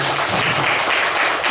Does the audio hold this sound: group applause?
yes